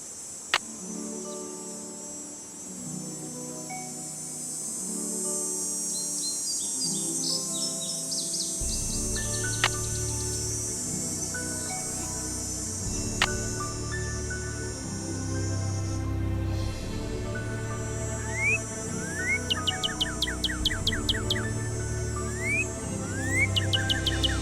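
Chirps and tweets from birds in the video game Ghost Dogs of Moon Lake, with several short, clear calls scattered over a steady, layered ambient background, moderately loud and with no talking.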